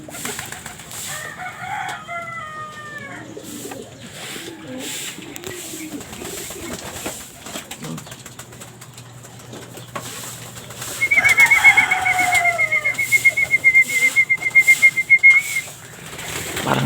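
Pigeons by their loft coo in rolling repeated phrases close by, joined later by a thin sustained whistling tone and rapid fluttering bursts that grow louder toward the end.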